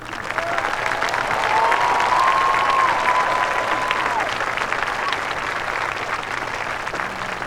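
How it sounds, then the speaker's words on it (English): A high school graduation crowd applauds the staff, with a steady, dense wash of clapping from a large audience that holds evenly throughout and a faint voice briefly audible early on. "please join me in applauding this remarkable group of individuals"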